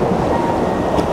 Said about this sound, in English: the waves at the end of the jetty are absolutely insane right now.